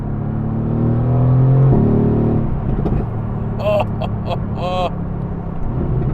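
A Mercedes-AMG GT R in race mode on a rough road, its engine note rising loud and close in a strong pull with a gear change, while a voice exclaims briefly over it.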